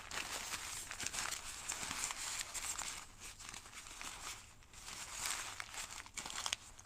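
Paper being crumpled by hand to wrinkle it for a watercolor batik, a quiet, close run of crinkling and crackling that rises and falls in uneven bursts throughout.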